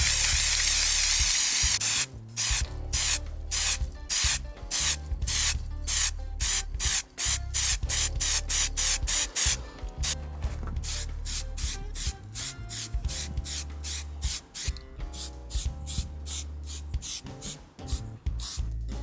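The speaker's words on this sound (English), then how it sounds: "I'm going to spray the primer on, but just by dusting it on" Repeated short bursts of spray-can primer dusted onto a car, loud and close, separated by brief pauses in a steady rhythm, with no talking.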